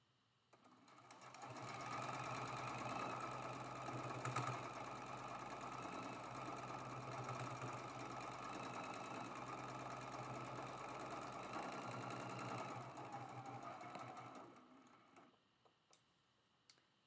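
A sewing machine runs steadily for more than ten seconds, its rapid mechanical stitching even and close, then stops.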